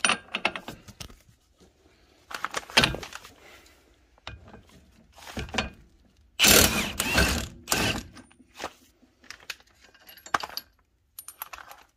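A socket ratchet and extension bar work at a rusty lower arm nut on a Nissan Micra K11, giving bursts of fast metallic clicking with pauses and clanks in between, close up and with no talk.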